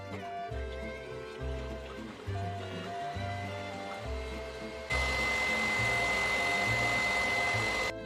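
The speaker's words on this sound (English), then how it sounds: "Last, we beat our egg whites really stiff with a pinch of salt in here." Electric mixer beating egg whites stiff with a pinch of salt for a Swiss carrot cake, a steady loud whirring hum that steps up to a higher, harsher speed partway through, with no speech.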